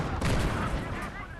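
Tank guns firing at a Panzer IV in the Call to Arms - Gates of Hell war game, a brief burst of overlapping booming shots and rumble, fairly quiet and dense.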